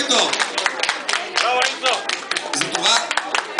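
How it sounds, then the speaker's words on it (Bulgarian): Applause breaks out at a reunion of graduates of the 1973 class of VHTI Burgas, a dense, moderately loud burst of clapping from a small gathering with a few voices mixed in. "Аплодисменти за което!"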